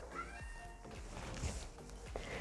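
A cat meows at a door several times in quick succession, drawn-out and plaintive, against a faint background hum.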